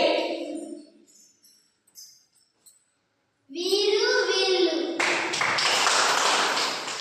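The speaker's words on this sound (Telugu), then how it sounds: "సర్వనామం పదం చూయించినప్పుడు 2 సార్లు క్లాప్స్ కొట్టాలి" A group of third-grade children play a word game in a Telugu classroom, their voices rising together and then breaking into a dense burst of clapping that fills the room for the last couple of seconds.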